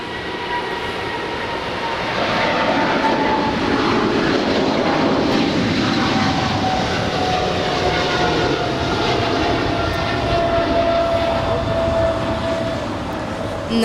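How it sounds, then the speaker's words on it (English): An Atlas Air Boeing 777 freighter taking off from LAX toward Tokyo Narita, its engines giving a sustained, heavy roar with steady whining tones, loud and continuous throughout. "That is flight 751 taking off for a flight to Tokyo Narita"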